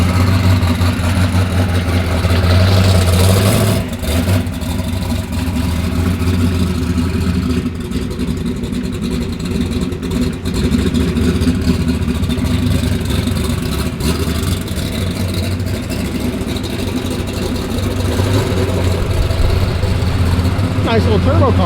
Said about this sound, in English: Nice little turbo car right there.